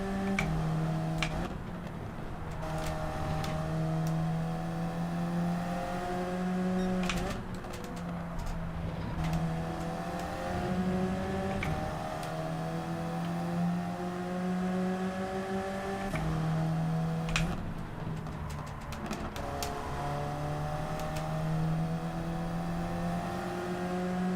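Group 4 race cars lap Brands Hatch GP Circuit in the video game Gran Turismo 7, with a continuous engine drone rising and falling through repeated gear shifts and a few sharp clicks, steady and moderately loud throughout.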